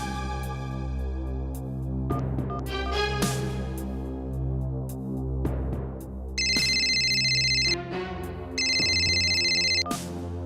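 A telephone rings as a call is placed: a sustained ringtone plays throughout, joined midway by two bright, steady electronic tone bursts, loud and close, with no talking.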